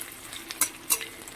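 Green chilli and grated ginger frying in a pan, a soft steady sizzle with a couple of brief sharper spits and light stirring, close and quiet.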